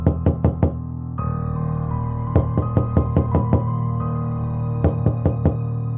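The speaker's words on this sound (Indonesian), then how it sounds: "mendengar pintu kamarnya ada yang mengetuk" Sharp knocks on a door in a horror story, struck in quick groups of three or four, loud and close over a steady low drone, repeated several times with short pauses between.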